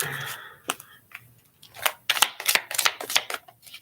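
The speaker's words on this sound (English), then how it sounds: "y'all want to see how the cards sound?" A deck of tarot cards is shuffled close up, with a quick run of crisp riffling snaps and flutters following a few scattered taps and slides.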